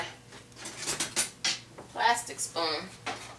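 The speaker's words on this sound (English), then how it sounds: "Switch spoons because I'm scraping up my pots here." A metal spoon scrapes a cooking pot during chana masala preparation with chickpeas, giving several short, uneven scraping and clinking strokes close by, with a faint hum underneath.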